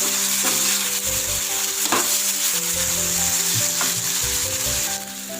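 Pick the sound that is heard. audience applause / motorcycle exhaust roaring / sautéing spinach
sautéing spinach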